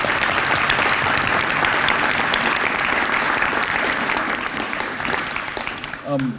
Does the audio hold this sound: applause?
yes